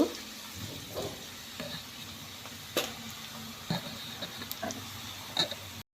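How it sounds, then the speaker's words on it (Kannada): Onions frying in a pan for an onion poha tadka, cooked until brown, giving a soft low sizzle with scattered faint stirring clicks and taps, close but quiet. "ಇದನ್ನು ಕಂದು ಬಣ್ಣ ಬರುವವರೆಗೆ ಹುರಿಬೇಕು"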